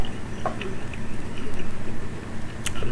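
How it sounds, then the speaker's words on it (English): A dog chews a chew bone with close, rhythmic gnawing and crunching in quick regular bites, with occasional sharper clicks and scrapes, and no talking. "Is my dog chewing on these."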